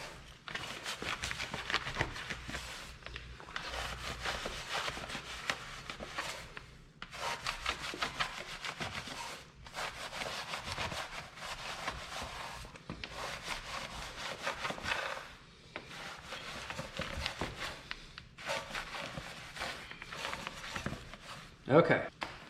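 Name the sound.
long brush scrubbing dirty painted car wheel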